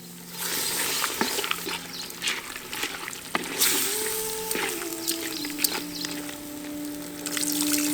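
Water poured into a hot cooking pan of mutton kothu kari, a continuous hissing, bubbling sizzle close by, with no one talking.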